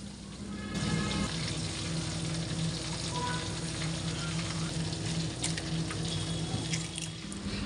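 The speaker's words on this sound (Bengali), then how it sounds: "একদম ফুটন্ত গরম তেল দিয়ে দিচ্ছি এর উপরে" Boiling hot oil poured over hand-mixed ingredients with salt sizzles in a steady, close hiss that holds for several seconds without a break, with no one talking over it.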